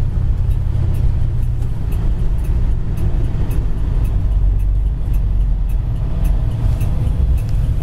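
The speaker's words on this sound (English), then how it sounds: "Car really idles nice and sounds nice." A 1965 Plymouth engine idles steadily nearby, a smooth, even low rumble with faint ticking on top, no voices.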